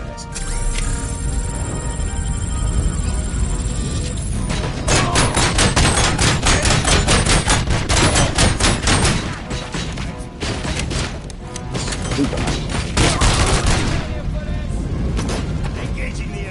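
Bursts of rapid gunfire in RoboCop Rogue City, dense strings of shots from about 5 s to 14 s, with a game voice talking and a loud mix of music and combat around it.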